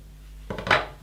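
Scissors cut away fabric triangles while sewing a zip welt pocket on a bomber jacket, giving a single brief, close snip in an otherwise quiet room.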